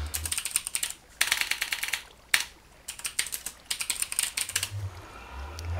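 Typing on a computer keyboard: close, quiet bursts of rapid key clicks separated by short pauses, several runs in a row with no voices.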